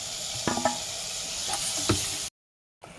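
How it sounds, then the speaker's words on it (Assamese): Chopped tomatoes hit a hot pan and are stirred while frying for a potato masoor dal, giving a steady sizzle with a few knocks of the spoon against the pan before a brief cut to silence. "বিলাহীখিনি দিয়াৰ পাছত ভালদৰে এইখিনি মিক্স কৰি অকণমান সময় ভাজি লওঁ"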